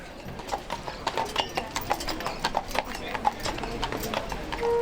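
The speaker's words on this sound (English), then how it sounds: "you can take a horse-drawn carriage for a more romantic and relaxed ride" Horse hooves clip-clop steadily on the road as a horse-drawn carriage climbs toward Neuschwanstein Castle, a close, even rhythm of repeated hoofbeats with faint background voices.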